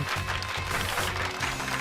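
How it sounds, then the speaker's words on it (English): Steady, dense applause sound effect in Pokemon Scarlet, a continuous wash of many hands clapping at an even level throughout. "Give Pikachu a round of applause, everyone. Clapping!"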